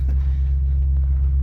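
Low, steady engine rumble of a Silverado truck out mudding in the middle of nowhere, a continuous loud drone with no breaks.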